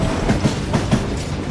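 A train in Call of Juarez: Gunslinger rolls along with a steady rumble and a regular clickety-clack of wheels over rail joints, close and fairly loud.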